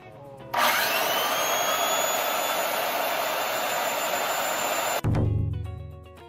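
A high-speed cutter starts abruptly and runs with a loud, steady, high-pitched whine for about four and a half seconds, while a semi-automatic welder is used at the same time. The cutter then stops and winds down.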